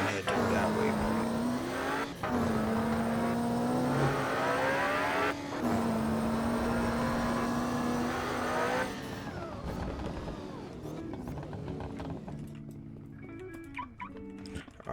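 Car in the Vice City video game driving and accelerating, with a steady engine drone that rises and falls in pitch for about nine seconds, then gives way to quieter game ambience and scattered clatter.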